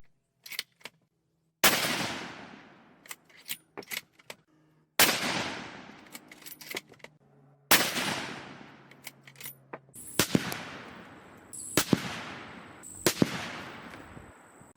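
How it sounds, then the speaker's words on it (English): A .243 Winchester rifle fires Norma TipStrike 76-grain rounds into ballistics gel, several sharp loud reports spaced a few seconds apart, each with a decaying echo, alongside some smaller clicks and bangs and no talking. "So let's go ahead and shoot it."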